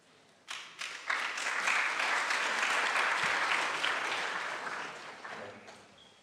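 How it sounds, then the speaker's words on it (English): Audience at a computer vision tutorial breaks into applause for a speaker, a few first claps swelling into full clapping that holds then tapers away. "Don't applaud quite yet."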